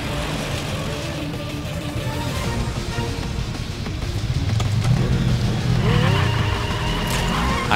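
A motorcycle chase in the video game Final Fantasy VII Remake, with engine drone, tire skids and squeals building louder midway, continuous with layered game effects.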